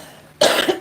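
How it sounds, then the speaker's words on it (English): A woman gives a short, harsh cough, close and loud, a main burst followed by a quick smaller one. "Y'all know I still got this cough."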